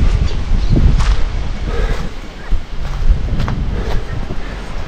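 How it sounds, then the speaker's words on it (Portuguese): Strong wind gusts buffet the microphone outdoors at an old house as an extratropical cyclone moves in, a loud continuous roar with rushing surges and sharp gusty bursts. "Agora começou um vento"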